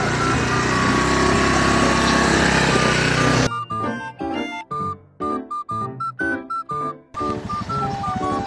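A motorcycle engine runs close by, a steady drone at first, then stuttering on and off in short revving bursts before settling back to a running hum.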